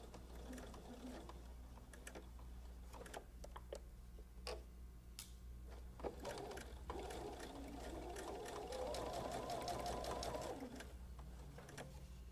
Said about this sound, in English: Now, I like to do a back stitch on this.